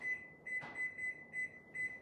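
A kitchen timer is set with a series of about five short, even electronic beeps, close and fairly faint, with a soft knock in the middle.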